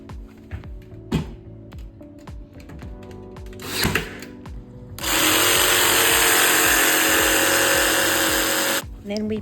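A power tool trims the end of a wooden bookshelf board during a DIY buffet build, whirring steadily and loud for about four seconds after scattered handling knocks and clicks.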